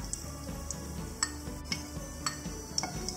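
Fried cashews and raisins are scooped out of hot ghee, a faint sizzle running under light metallic clinks and taps of a spoon against the pan. The scraping and clicking stays close and unhurried, with no voices.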